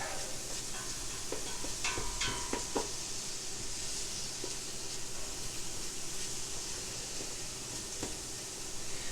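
Onions caramelizing in a pan for an Appalachian beef and vegetable soup, a steady close sizzle and hiss with a few brief scraping and clinking stirs in the first seconds.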